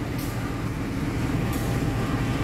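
Loud low rumble of a diesel locomotive idling and moving slowly nearby while shunting onto a passenger train, steady engine drone with brief hissing bursts, no speech.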